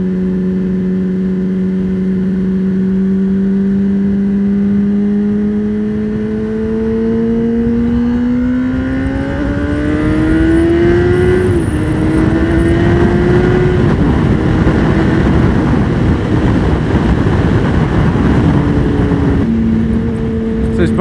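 Honda CBR 600 RR sport motorcycle riding along with its engine note climbing steadily through the revs, a sustained rising drone with a brief dip and shift near the end, loud and continuous with wind noise.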